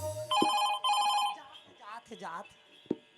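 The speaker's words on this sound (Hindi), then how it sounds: "उठा ना वो, उठा, पिकअप द फोन, उठा ना।" A telephone rings with two bursts of a shrill electronic trill, loud and close, followed by voices talking and a sharp knock at a comedy dance-party stage show.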